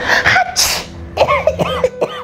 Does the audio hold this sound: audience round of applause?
no